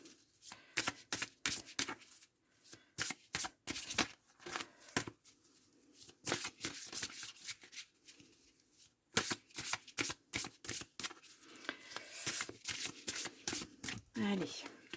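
Oracle cards riffled and shuffled by hand, then drawn one by one, making a quick run of papery flutters and snaps in irregular bursts with short pauses, close and fairly soft.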